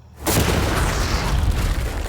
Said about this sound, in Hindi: वो धमाका टैंक वाले से बहुत बड़ा होगा।